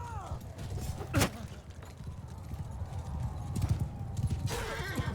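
Horse hooves clip-clopping in the Mount & Blade II Bannerlord video game, a battle scene with galloping hoofbeats and a horse whinny, under a man's speech.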